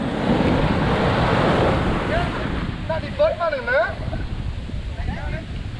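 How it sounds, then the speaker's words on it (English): Loud rushing surf and wind noise buffet the microphone, with a voice talking over the steady roar of waves. "Look at these waves."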